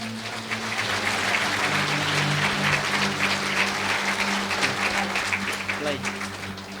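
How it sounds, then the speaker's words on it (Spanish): A church congregation claps in sustained applause, a dense, even patter filling the room for several seconds, with a voice speaking over it. "Fuerte aplausos."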